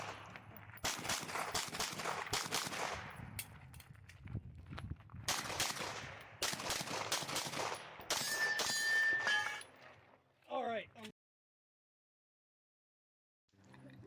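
Gunfire at a practical shooting match stage, with sharp cracks fired in quick pairs at each target, loud and close with ringing echoes, then a burst of metallic clatter before a sudden cut to silence.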